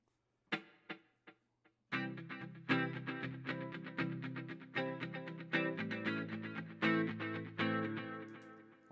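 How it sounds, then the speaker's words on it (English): An electric guitar plays a few plucked notes, then strummed chords ring out with a trailing echo that repeats each attack and fades behind it. "I will typically have like a little bit of delay on there"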